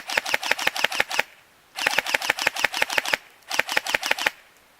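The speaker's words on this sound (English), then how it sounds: "this is how my PTW sounds with about a half charge battery in a cold environment" A Systema PTW airsoft rifle on a half-charged battery in cold conditions fires three rapid full-auto bursts, each a quick string of sharp mechanical cracks separated by brief pauses, close and fairly loud.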